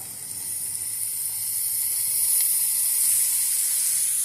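Diced cucumber pieces go into a hot pan for a curry with dried fish, giving a steady bright sizzling hiss that grows slightly louder, with no talk.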